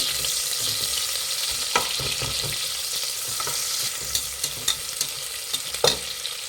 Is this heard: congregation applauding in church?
no